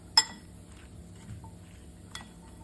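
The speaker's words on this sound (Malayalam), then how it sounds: "ഇനി ഇതൊന്ന് നന്നായിട്ട് മിക്സ് ചെയ്തെടുക്കാം." Small clinks of a utensil against a bowl as salad is tossed with salt: two sharp, close taps with faint scraping between, otherwise quiet.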